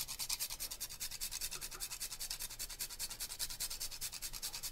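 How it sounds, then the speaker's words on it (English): Fresh nutmeg is rubbed against a grater in quick, rhythmic rasping strokes, soft and close, repeating evenly for several seconds with no talking. "Let's grate some fresh nutmeg."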